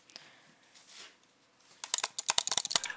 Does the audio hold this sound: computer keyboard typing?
yes